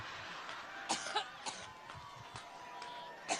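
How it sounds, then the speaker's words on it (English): A woman coughs repeatedly on stage in Cleveland, a series of sharp, irregular coughs carried over a live microphone with a faint crowd murmuring in the background. "on top of a severe coughing fit, you saw where she practically gags and vomits right there in front of the stage in Cleveland."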